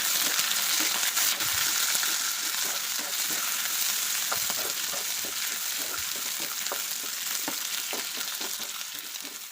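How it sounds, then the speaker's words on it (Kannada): A handful of garlic and thickly chopped onion sautéing in a hot pan, producing a loud, dense, continuous hiss with faint crackles underneath that eases slightly toward the end, with no speech. "ಒಂದು ಹಿಡಿ ಆಗೋಷ್ಟು ಬೆಳ್ಳುಳ್ಳಿ, ಆಮೇಲೆ ಒಂದು ದಪ್ಪನಾಗಿ ಹಚ್ಕೊಂಡಿರೋಂಥ ಈರುಳ್ಳಿ, ಇದೆರಡನ್ನೂ ಸ್ವಲ್ಪ ಬಾಡಿಸ್ಕೋಬೇಕು."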